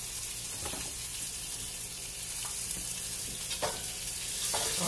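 Pork frying in a pan, a steady soft sizzle and crackle with occasional stirring clicks, close and moderately quiet, no voices.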